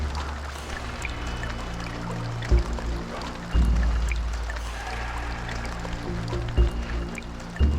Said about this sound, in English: Apparently that water doesn't damage me.